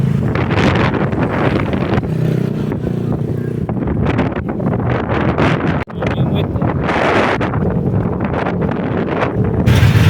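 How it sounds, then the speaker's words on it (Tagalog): Strong wind roars and buffets the microphone nonstop on a seaside dike in Malabon, loud and close, with gusting surges and a brief dip near the middle. "Napakalakas ng hangin. Grabe lakas ng hangin naman dito."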